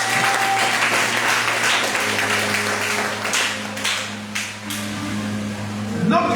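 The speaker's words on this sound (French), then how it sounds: "Si tu es d'accord, acclame le Seigneur." A church congregation bursts into loud, sustained applause, a dense wash of clapping that swells and eases with voices mixed in.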